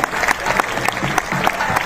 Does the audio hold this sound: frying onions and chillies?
no